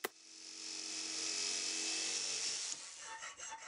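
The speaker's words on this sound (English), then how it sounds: "I'm going to cut the slot out with my jigsaw" A jigsaw cutting a slot in a lathe motor mount plate, a steady buzzing cut after a sharp start click, then stopping with a few faint rattles at the end.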